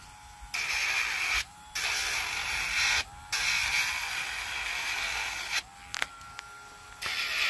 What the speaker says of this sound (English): I use the Dremel tool.